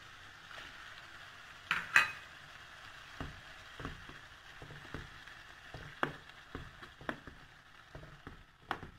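Tomatoes being cooked down into a sauce in a pan for quick pasta, heard as soft stirring and scraping with scattered utensil clicks and light pan knocks against a low sizzle, no talking.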